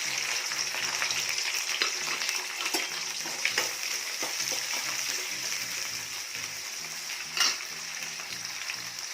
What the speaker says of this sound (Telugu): ఉల్లిపాయ ముక్కలు అయితే మనకు కొంచెం బ్రౌన్ కలర్లో వచ్చేంత వరకు వేయించుకున్నామండి.